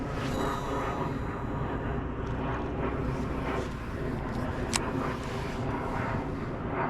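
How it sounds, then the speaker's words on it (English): An airplane flies overhead, unseen, during a fishing outing, a steady broad distant drone that fills the whole stretch with wind noise on the microphone. "I don't even see that airplane. I hear it,"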